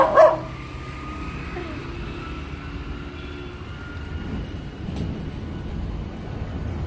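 A puppy yelps sharply once at the start, close by, then a steady low rumble of passing traffic or train noise continues with no further clear barks.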